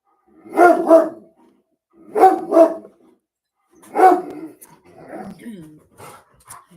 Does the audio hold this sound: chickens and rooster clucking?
no